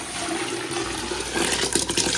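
Water poured into a pot of rice while making biryani, a steady rushing gush that swells louder toward the end and runs continuously without speech.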